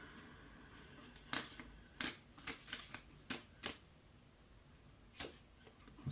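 Tarot cards riffled and shuffled in a quiet room, a series of short crisp flicking bursts at irregular intervals with faint background hiss.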